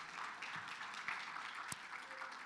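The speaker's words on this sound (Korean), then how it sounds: "저 뒤에 우리 현준이가 박수 한번 쳐주세요" Applause from a church audience at a Christmas thanksgiving service, following a youth actor's performance; the clapping is fairly faint and distant, a steady patter lasting a couple of seconds with no speech over it.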